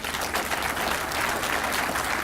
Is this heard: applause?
yes